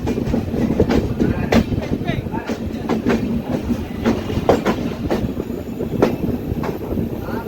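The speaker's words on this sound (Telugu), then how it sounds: "మన ట్రైన్ అయితే కరవ తీసుకుంటుంది" Inside a general coach of the Swarnajayanthi superfast train as it rounds a sharp, nearly ninety-degree curve: loud continuous rumble with rhythmic wheel clicks and clatter, steady and close throughout.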